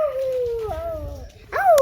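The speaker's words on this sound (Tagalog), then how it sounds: "Ayan, meron pong aso." A dog whimpers and howls in a long descending whine, then yelps sharply at the end, close and clear outdoors, with no one talking.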